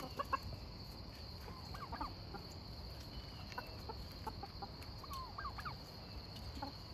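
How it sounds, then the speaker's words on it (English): Hens cluck and call on and off over a steady outdoor background, several birds at moderate distance with no talking. "I think my chickens are chasing me this morning"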